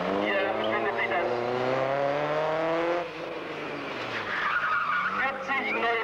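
A rally car skids and squeals its tyres through a slalom course, the engine roaring and revving up close while a loud announcer's voice runs over the screech.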